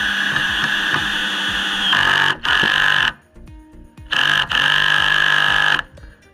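DeWalt hammer drill in second gear driving a screw into wood for a raised planter box, loud whining motor bursts that start and stop several times with brief pauses between them.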